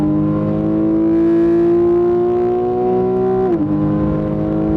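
Porsche 911 (991) Carrera S engine accelerating in manual mode, a loud close steady rising drone that climbs in pitch for over three seconds before a quick drop at the gear change, then pulls again.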